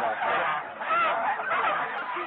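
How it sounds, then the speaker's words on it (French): Several geese honk loudly and continuously, overlapping harsh nasal calls close by, recorded at a farm where the birds were being plucked alive. "Des oies plumées vivantes."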